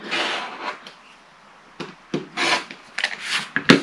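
Fabric is trimmed with a ruler and rotary cutter down to a 2.5 inch half square triangle, giving short scraping and rubbing strokes separated by brief pauses, close and fairly loud.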